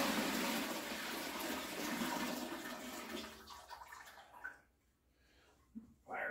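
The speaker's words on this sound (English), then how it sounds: "So I'm basically just gonna pour the water in." Water pours into a pot for a three-berry mash, a loud continuous rushing stream that tapers off and stops near the end.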